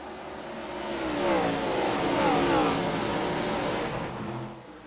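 Race car engines roar as the field accelerates at a green-flag restart out of turn 4 at World Wide Technology Raceway, a dense, building drone of revving motors that swells and then holds steady, with faint commentary underneath.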